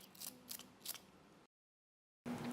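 Small brush swept across the spur knife of an adjustable groover to clear debris, three short bristly strokes spaced evenly, then a pause and another brief scrape, close and quiet.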